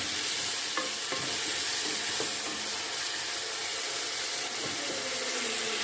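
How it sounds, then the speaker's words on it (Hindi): Tomatoes are stirred into a frying aloo palak qeema mixture, a loud continuous sizzle with occasional soft scraping and clicking of the spoon, and no speech. "अब इसमें हम टमाटर डालेंगे और इसको हम अच्छे से मिक्स कर लेंगे टमाटर को।"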